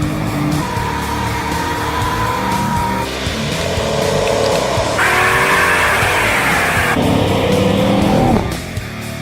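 A loud 1967 Dodge Coronet engine revs and roars close by, rising and falling in pitch with squealing tire noise through several bursts of acceleration.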